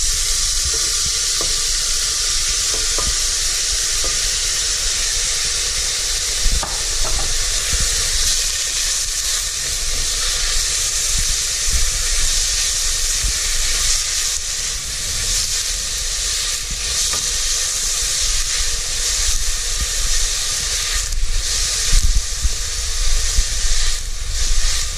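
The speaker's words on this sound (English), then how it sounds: "After garlic, we quickly add onion." Onion frying in oil right after garlic in a bowl, cooking authentic Malaysian village food: a steady, dense sizzle and hiss holds close and loud throughout, with faint clinks and stirring scrapes, no talking.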